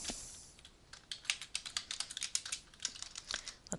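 Keys on a computer keyboard tapped out in a quick, uneven run of close, crisp clicks as a field name is typed, with no voices.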